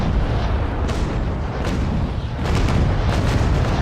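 Cannon broadside fire from the Naval Action naval combat game, a sustained rumble of booming shots with several distinct reports landing through the stretch, loud and continuous.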